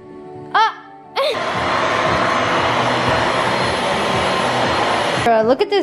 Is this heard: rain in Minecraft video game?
no